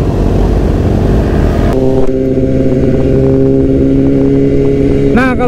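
A Honda Fireblade 1000cc motorcycle engine runs loud and steady, with a deep rumble throughout and a sharp shift in tone near the two-second mark. A brief rising rev closes it.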